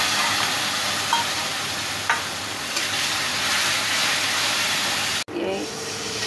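Spice paste and ground turmeric, chilli, coriander and cumin sizzle steadily with fried loitta fish in a hot pan, a continuous close hiss that briefly cuts out near the end before resuming.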